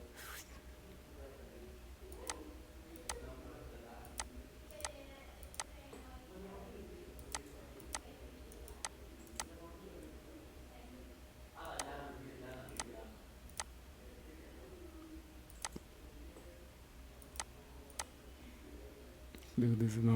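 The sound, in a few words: computer mouse clicking on nodes in ArchiCAD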